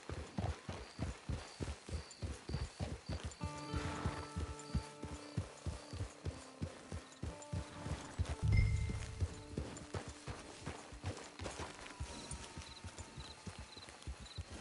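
Horse hooves clip-clop at a steady walking pace in Red Dead Redemption 2, with a low thud partway through and faint tonal music underneath.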